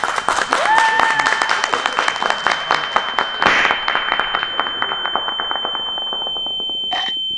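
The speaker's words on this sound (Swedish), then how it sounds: "kan jag få en applåd?" Applause from an audience at DreamHack Summer 2023 gaming festival, a dense patter of many clapping hands that gradually thins, with voices and a brief beeping tone near the end.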